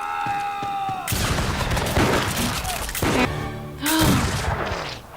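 Gunfire from a scene in the TV series Outlander, period drama with a general targeted: a loud sharp shot bursts in after a quiet musical start, followed by further booming blasts and ringing tones, with voices faintly under it.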